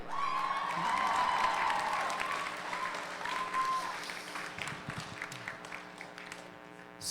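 A crowd at a school spoken word competition claps and cheers loudly after a performance, the applause swelling early and then thinning out toward the end, with a few voices rising above it.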